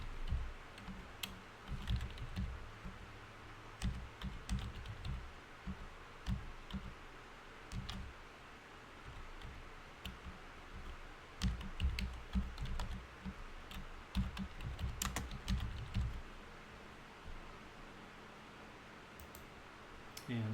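A computer keyboard is typed on in bursts of quick, close clicking keystrokes with short pauses between runs, entering a password, quiet and without speech.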